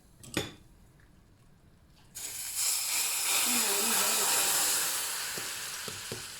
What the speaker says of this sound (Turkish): Toz biberimiz vardı. Onu döküyorum. Kızgın yağımın üzerine.